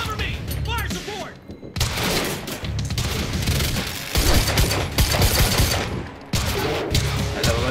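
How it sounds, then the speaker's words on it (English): Rapid bursts of gunfire from a firefight in the video game Quantum Break, loud and dense with short gaps between volleys, while voices talk over the shooting. "And stop fucking shooting at him!"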